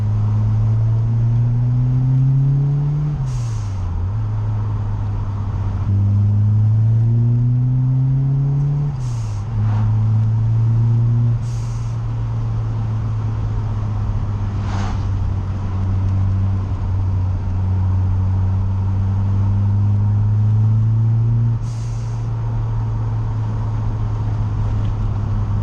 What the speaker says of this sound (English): Window back up so we can hear a bit more of the acceleration.